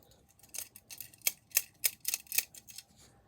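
Leatherman multitool scissors snip repeatedly, about a dozen sharp crisp clicks in an uneven rhythm, close and fairly loud with no talking.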